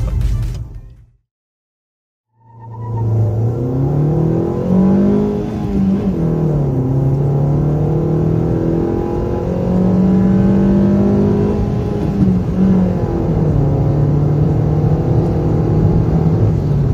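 A 2017 Suzuki Ignis 1.2 with a manual gearbox accelerates hard from 0 to 100 km/h. After a brief silence the engine note climbs loudly and steadily through rising revs, with gear changes dropping the pitch before it climbs again.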